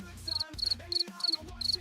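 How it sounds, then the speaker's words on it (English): Soundboard cricket chirps play in short repeated bursts, five quick trilling pulses close together and fairly loud, with a faint low hum underneath. "There's your crickets."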